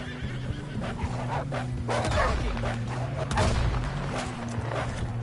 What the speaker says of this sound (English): We got more wolves on the left.